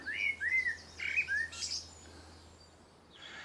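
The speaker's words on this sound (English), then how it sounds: "I've been sitting listening to this blackbird for the last 5 minutes." A blackbird sings in a garden: a few clear, fluting phrases in quick succession, then quiet with a low steady background hum.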